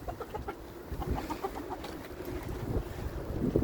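Backyard hens cluck in a series of short, soft calls at close range over a low outdoor rumble, with a few louder bursts toward the end.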